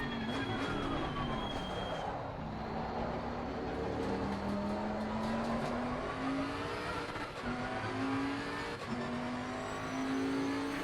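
A Bentley GT3 race car in Assetto Corsa Competizione at Donington, its engine droning loud and steady with slowly rising pitch through gear changes, close and continuous with no talk.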